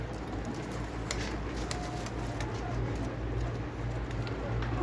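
Pigeons for sale coo steadily in a close, continuous chorus, with a constant low hum and scattered faint clicks beneath.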